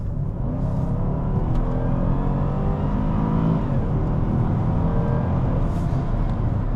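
A straight-piped 500bhp Jaguar XFR roars under hard acceleration, revs climbing steadily in a loud, continuous, raspy drone heard from inside the vehicle.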